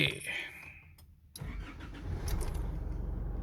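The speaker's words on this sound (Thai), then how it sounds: "สตาร์ทเครื่องก่อนเลยนะฮะ" A 2013 Isuzu D-Max Hi-Lander 2.5 Z VGS pickup's engine cranks briefly and catches, then settles into a steady close diesel idle, with someone talking nearby.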